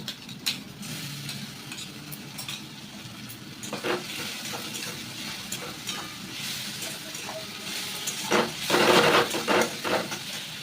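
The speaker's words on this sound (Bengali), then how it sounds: "এখানে এসে তো দেখো বন্ধুরা মশলাটা ভালো কষে নিচ্ছি" Ginger-garlic paste and onions frying in hot oil, stirred with a spatula that scrapes now and then, with a steady sizzle that swells louder toward the end.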